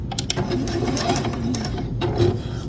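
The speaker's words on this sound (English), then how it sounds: "And I'm just going to sew basically 1/4 inch from the edge of the" Sewing machine stitching along a quilt edge with teal thread, a rapid steady mechanical chatter of needle strokes running throughout, close and fairly loud, with no talk.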